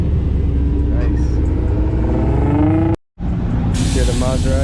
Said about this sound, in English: Hear the Maserati rumble.